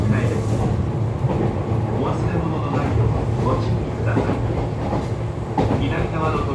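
A Kintetsu Nagano Line train on single track rumbles along toward Kawachinagano with a steady low roar and rhythmic clacking of wheels over the rails, continuous and close throughout.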